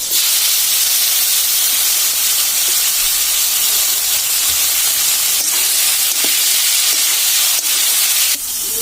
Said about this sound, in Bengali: তেল গরম হয়ে গেছে, দিয়ে দিচ্ছি মাছ, চিংড়ি মাছ।